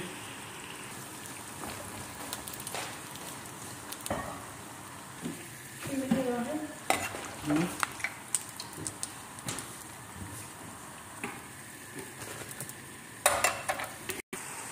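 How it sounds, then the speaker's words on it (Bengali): Mughlai paratha frying in oil on a tawa gives a soft, continuous patter of sizzling droplets, with scattered louder pops and a few utensil knocks toward the end. "এইভাবে আমি এক এক করে সবগুলা মোগলাই করে নিলাম, তেলে ভেজে নিলাম"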